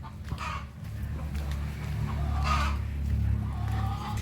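Backyard hens on a farm range give scattered clucks over a low, steady background rumble, with a few louder calls standing out and no clear talk.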